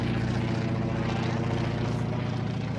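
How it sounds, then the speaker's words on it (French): A loud, continuous propeller aircraft engine, the F-PIIM, drones close by with a deep, pulsing rumble that holds level throughout. "Et c'est bruyant les avions quand même."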